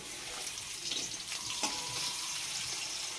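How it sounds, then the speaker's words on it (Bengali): Potatoes frying until reddish-brown in a wok, giving a steady broadband sizzle close to the mic with a few faint clinks and scrapes, and no talking. "আমি এদিকে কড়াইয়ে আলুগুলোকে ভেজে নিচ্ছি লাল লাল করে।"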